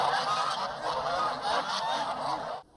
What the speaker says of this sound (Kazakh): Ал мына қаз үйрек шоғыры Тасарық ауылының тұрғыны Жаслан Асқаровқа ти